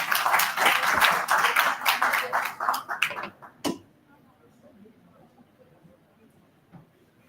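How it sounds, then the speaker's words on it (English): An audience at a physiotherapy conference award ceremony claps for the award recipient, a dense burst of applause that thins into scattered claps and fades out after a few seconds, leaving a quiet room. "Please have a round of applause for him."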